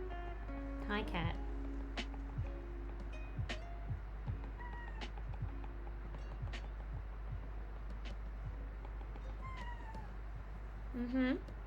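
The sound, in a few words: cat meowing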